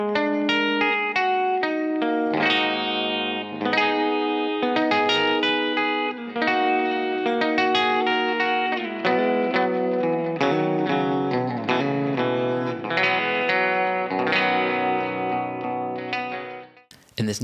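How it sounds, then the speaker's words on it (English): Guitar chords run through a Lexicon PCM 70 set to concert hall reverb plus dual delay, a dense sustained wash with long echoing tails and a shimmering, layered sound that never drops out. "we're going to apply the concert hall reverberation and then the dual delay"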